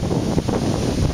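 Hurricane-force wind gusts roar steadily and loudly across the microphone, a dense, rushing buffet with no voices over it.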